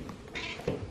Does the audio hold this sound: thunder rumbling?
no